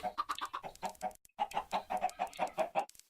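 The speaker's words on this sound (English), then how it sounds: "I have a chicken that escapes, but whatever, I have tons of chickens" Minecraft chickens in the Thaumcraft modded game cluck in quick rhythmic bursts, a steady run of short clucks with a brief pause partway, close and fairly quiet.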